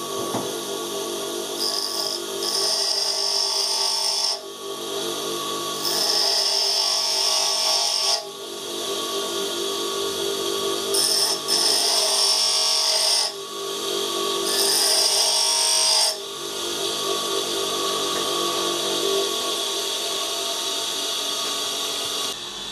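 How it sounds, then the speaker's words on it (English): Continuous grinding and rasping of a drill bit being sharpened on a spinning wheel, loud and close, with brief dips in pitch and intensity. "Right, so we need to sharpen the drill."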